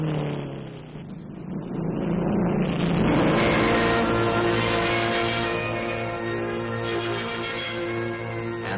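Several motorcycles ridden on a dirt track built by off-duty ex-soldiers, in 1950: a loud, steady engine drone near and far, its pitch rising and falling as the machines race around.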